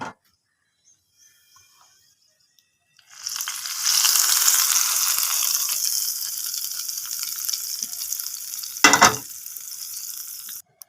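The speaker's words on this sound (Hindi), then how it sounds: "तो इसके साथ ही हम इसमें तड़का लगा लेंगे" Near silence, then a sudden loud burst of spices tempering in hot oil for kadhi pakoda that crackles steadily, with a sharp clatter partway through.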